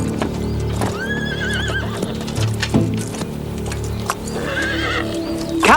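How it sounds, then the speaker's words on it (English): A lame horse whinnies loudly twice, close by, its neighs rising and wavering between uneven hoof clops and shuffling on a woodland path, with no voices. "The horse is lame."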